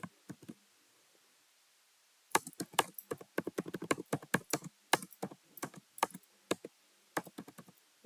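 Code is typed on a computer keyboard in brisk, irregular bursts of close, crisp key clicks after a short opening flurry and a pause.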